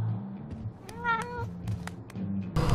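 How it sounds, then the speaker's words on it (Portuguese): A black cat meows in the video game Life is Strange True Colors, one clear drawn-out meow in the middle, close and distinct over low background game ambience, with a louder burst of sound at the end. "Mas essa gatinha preta é tão fofinha."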